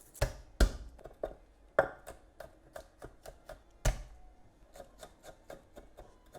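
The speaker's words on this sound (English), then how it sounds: "I'm just going to chop it as finely as I" A knife chopping garlic finely on a cutting board, a quiet, close series of sharp irregular taps, some spaced out and others in quick bursts, with no voices.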